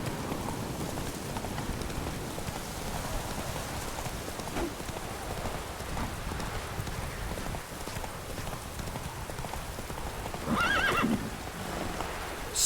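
Roach the horse galloping in The Witcher 3 video game, with steady drumming hoofbeats under rainfall and a loud neigh near the end.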